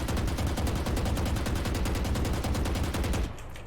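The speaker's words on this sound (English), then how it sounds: "you're shooting the bullets a lot faster" Rapid automatic gunfire from a stimmed weapon in Valorant, a fast, even stream of loud close shots hammering without pause for about three seconds before cutting off abruptly.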